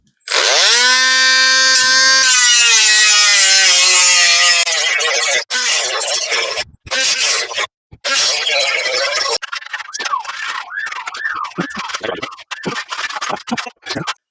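Angle grinder cutting through seized bolts on a car exhaust during a CB7 Flashark exhaust install, a loud sustained whine for about five seconds, then choppy bursts of cutting with brief gaps.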